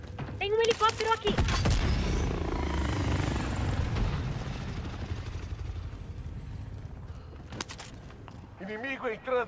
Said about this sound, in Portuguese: Tem um helicóptero aqui